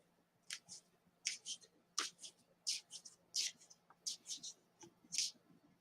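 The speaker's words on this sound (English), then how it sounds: "I am shuffling the cards." A Tarot of Hecate deck of tarot cards being shuffled by hand, giving quiet, crisp riffling bursts in an irregular rhythm, close but soft, with no one speaking.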